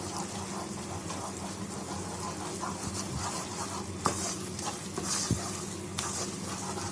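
Mysore pak mixture being stirred with ghee in a pan over low heat, a steady scraping and bubbling sizzle with soft wet clicks throughout and a few sharper knocks of the spoon against the pan.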